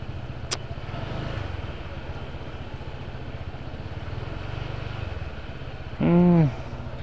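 Congested traffic on the Kapuas bridge in Pontianak, cars and motorcycles idling and creeping in a steady engine rumble, with a short loud horn blast near the end.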